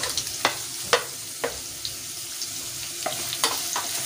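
Chopped onion frying with green and black cardamom in hot oil, a soft continuous sizzle broken by several sharp spoon scrapes and taps against the pan.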